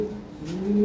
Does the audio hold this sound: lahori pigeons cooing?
yes